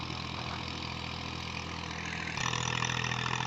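A 2000-model Massey Ferguson 240 tractor pulling a 9-tine cultivator in a field in Punjab, Pakistan, with its diesel engine running. It gives a steady, continuous mid-range drone that steps slightly louder and rougher near the end, with no talk.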